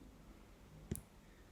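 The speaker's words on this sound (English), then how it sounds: "So I'm going to click on it." A single sharp computer mouse click, brief and close, standing alone against a faint quiet background.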